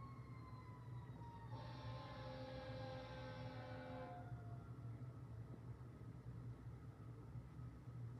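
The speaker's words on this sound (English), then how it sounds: "a fire truck just went by" A passing fire truck sounds its siren from a distance, a wailing tone rising and then fading over a few seconds above a steady low rumble of traffic.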